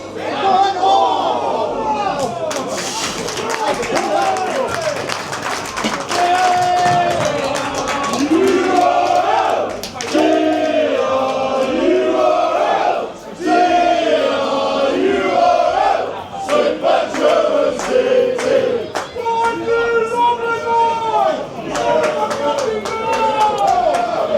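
Football fans at a Boreham Wood vs Truro City non-league match chant and sing loudly and continuously from the terraces, with shouts and scattered claps rising over the crowd noise, close and energetic.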